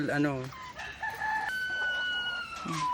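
A native labuyo chicken crows in a rising, drawn-out call, loud and close, with a second bird's call joining near the end.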